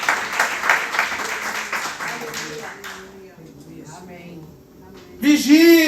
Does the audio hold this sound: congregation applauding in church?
yes